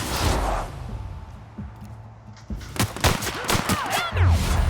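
Gunfire in The Outer Worlds crackles in close, sharp bursts, first a loud burst, then a quieter stretch, then rapid shots stacking up toward the end.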